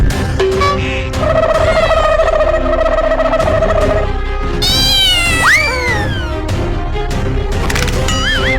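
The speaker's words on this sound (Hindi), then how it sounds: "ये बिल्ली ने तो हमारा मछली लेके भाग गया रे" A cat meows loudly and repeatedly while running off with a fish, with long wailing cries and rising and falling yowls over busy comic background sounds.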